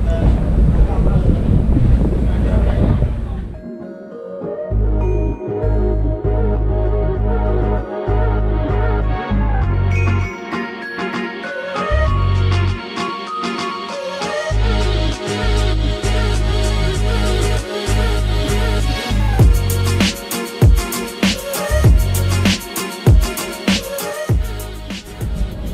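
Strong wind buffets the microphone at the front of a boat travelling to Koh Chang, loud rough gusting that roars in bursts over engine drone and water, with someone talking intermittently.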